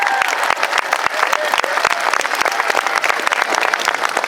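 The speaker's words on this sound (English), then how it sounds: "Big round of applause for that" Outdoor crowd applause in a city square during a holiday tuba concert, dense steady clapping from many hands throughout, near and loud with no talk over it.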